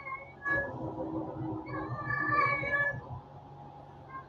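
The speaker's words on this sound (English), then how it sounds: "yeah, that's my cat in the background." A pet cat meows several times in the background at a moderate distance, drawn-out calls rising over a low indoor hum with no talking.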